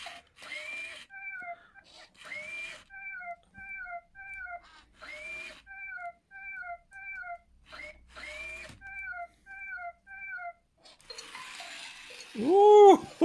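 Aldi Power Kitty Jr remote control robot toy kitten repeatedly emits electronic meows in a steady looping pattern, with a louder rising-falling cry and brief voice near the end.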